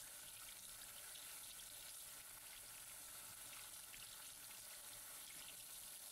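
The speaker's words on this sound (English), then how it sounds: "make sure you wash them with soap and warm water" Hands are washed with soap under a running warm kitchen tap while a gumbo is being prepared, giving a steady, even rush of water that hisses on without a break.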